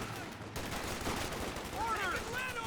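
Battle sounds from a Company of Heroes 2 replay, with Soviet conscripts firing at a German MG34 position: steady, fairly faint crackling gunfire under a constant din, joined by whistling tones toward the end.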